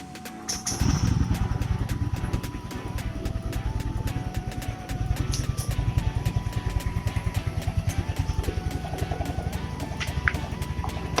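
A keyless motorcycle's engine is started with the starter button and settles into a steady, close, rapidly pulsing idle, with a few small clicks and beeps on top and no talk.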